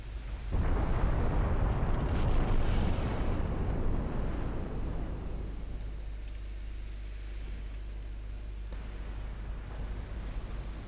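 Heavy 18-inch naval gun rounds firing in the Ultimate Admiral Dreadnoughts naval battle game: a loud, booming blast opens, then a long rumbling roar slowly decays, with faint clicking sounds in the background.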